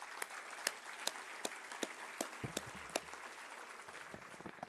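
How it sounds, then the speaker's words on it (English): Scattered clapping from an evening event audience thanking a sponsor, a thin smattering of distinct individual claps over a soft room wash, fairly faint and steady. "so let's give them a nice round of applause"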